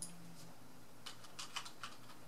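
Keys tapped on a computer keyboard, a short burst of quiet, close clicks in a few quick clusters over near silence.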